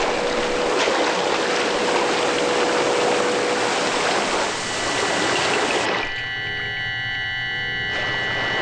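Water rushes steadily into a flooding room, a loud continuous torrent that runs throughout with no voices, its tone shifting partway through.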